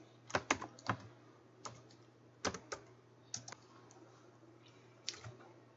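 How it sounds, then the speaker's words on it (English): Computer keyboard typing while entering data in an Excel spreadsheet, with tab key presses: sparse, crisp clicks come singly and in quick clusters of two or three, fairly quiet against a faint low hum. "I can simply press the tab key again without having to type in the entire word hardcover"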